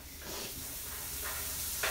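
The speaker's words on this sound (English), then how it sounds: "I'm actually gonna add a little bit more butter, get a little more frying going on in here." Butter fries in a pan with a steady, close hiss and sizzle, a continuous crackling wash with small bursts of spitting.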